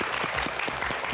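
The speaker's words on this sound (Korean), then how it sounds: "큰 박수로 맞아주시죠." Studio audience applause welcoming a real estate expert guest onto a Korean TV talk show stage, a dense, steady burst of clapping filling the whole moment.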